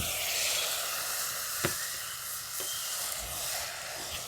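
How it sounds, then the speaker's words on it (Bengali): A little water hits a hot pan of frying ginger, garlic, chilli and spring onion, producing a steady close hiss and sizzle with a couple of light clinks from a utensil, without any talking. "এরপর আমি দিয়ে দিচ্ছি অল্প একটুখানি জল।"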